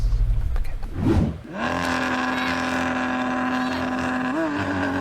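A BMW M5 CS and a Lamborghini SVJ launch in a drag race: a loud, close engine roar swells and surges, then settles into a steady high-pitched howl as the cars pull away.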